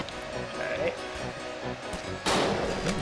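Gunfire in the World War II dinosaur shooter game Dino D-Day, including a sniper rifle shot, with a loud sharp crack near the end over background game noise and voice chat.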